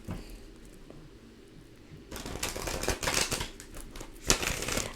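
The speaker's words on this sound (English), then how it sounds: "Two more shuffles." A quiet pause, then a rapid flurry of papery riffling and slapping as cards are shuffled close up, ending in a sharp snap.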